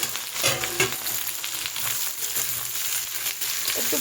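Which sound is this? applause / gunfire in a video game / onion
onion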